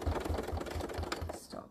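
A sewing machine running slowly on straight stitch during couching work, its low regular needle thumps pulsing about every quarter second under a continuous layer of speech.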